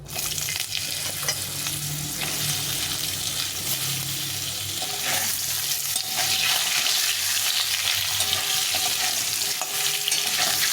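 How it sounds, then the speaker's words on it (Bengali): Potatoes fry in oil spiced with cumin for a bata fish curry, giving a continuous bright sizzle with occasional stirring clatter, close and fairly loud. "আলুটা একটু ভেজে নেবো"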